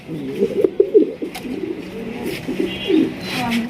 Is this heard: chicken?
no